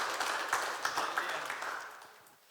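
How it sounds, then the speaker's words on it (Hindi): A church congregation at a Sunday Hindi service applauds an 18th wedding anniversary with a burst of scattered clapping that fades out over a couple of seconds. "ताली बजाकर बधाई दे रहे।"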